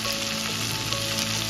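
Cumin and ginger paste frying in a pan, a dense, even sizzle held close and loud for the whole short stretch with no voices.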